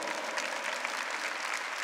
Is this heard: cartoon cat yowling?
no